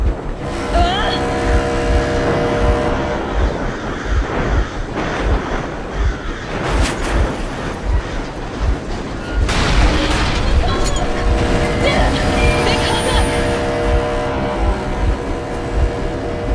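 A vehicle engine runs in Metro Exodus under heavy booming game action and loud voices, its steady mechanical drone carrying through bursts of impacts.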